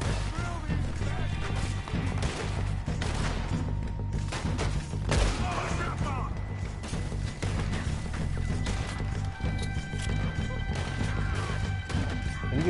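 Gunfire in the video game Red Dead Redemption 2 arrives as sharp cracks and crashing impacts amid a dense, continuous wash of game sound, with a loud burst near the middle.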